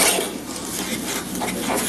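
A spoon scrapes and rubs through peach crumble ingredients with nutmeg in a bowl, giving a brief, close, soft rasping stir with light clinks.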